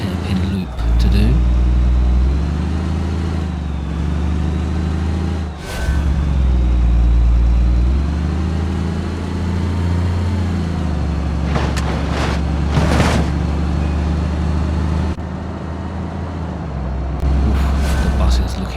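A battered bus in the BeamNG video game drives along, its engine a loud, low, steady drone with shifts in revving and a few clattering knocks, while someone talks over it.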